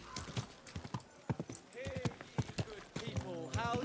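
Horse hooves clip-clop in a steady, uneven rhythm in Kingdom Come: Deliverance 2, close and clear, with a brief whinny partway through and someone speaking over the steps.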